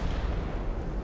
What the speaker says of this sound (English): 7-inch hits from the light cruiser